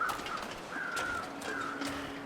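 A crow caws in The Long Dark, several short hoarse calls spaced across the moment, moderately distant over a steady wind-like hiss.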